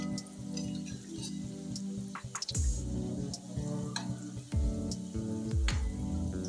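Bakarwadi frying gently in oil in a pan over a low flame, a steady soft sizzle and crackle running throughout with a few louder bubbling bursts, close and alone with no talking.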